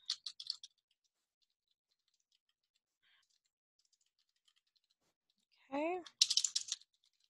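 Short bursts of clicky typing on a computer keyboard, one at the start and one at the end. A brief voice-like sound comes just before the second burst, and the gap between the bursts is almost silent.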